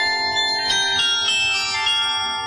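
A carillon of 50 tower bells, a four-octave instrument weighing 3000 kg, rings out in sustained overlapping tones with a brighter struck note near the start, steady and fairly loud.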